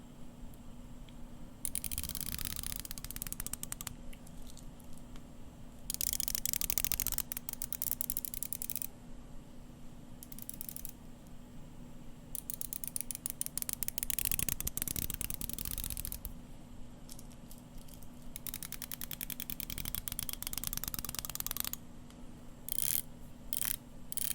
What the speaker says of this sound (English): Rotate it a little bit faster as if I'm using it.